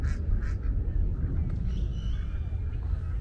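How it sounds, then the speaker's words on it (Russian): Ducks quack a few times at a distance over steady outdoor water and wind noise in a central Mexico City park, faint and intermittent. "Смотрите, какие уточки."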